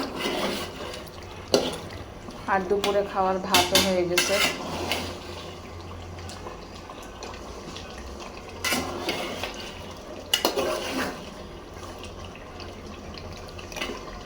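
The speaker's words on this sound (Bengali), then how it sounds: "মাংসটা কষানো হইতেছে" Meat being stir-fried in a pot with small local garlic cloves, heard as clattering metal utensil clanks and scraping in bursts, with someone talking over part of it.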